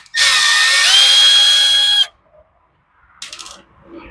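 A power tool whirs loudly for about two seconds, backing out tight screws on a Poulan Pro pole saw, then stops; a brief quieter mechanical rattle follows after a pause.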